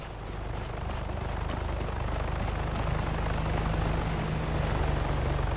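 Military helicopter in Arma, a loud, rapid rotor thump with a low engine drone that swells a little as the machine closes in, with no speech.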